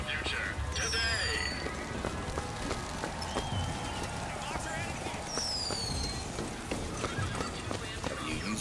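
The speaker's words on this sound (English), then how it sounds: "Equus Mechanical, the automatic stallion, the horse of the future, today!" Mechanical horse from the game BioShock Infinite, a clockwork stallion, neighs amid clip-clopping hooves against a busy, continuous city ambience with voices talking underneath.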